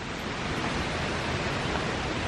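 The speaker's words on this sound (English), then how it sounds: "This is the waterfall itself." A waterfall roars steadily and close, a dense, unbroken wash of falling water that fills the whole clip with no pauses or voices.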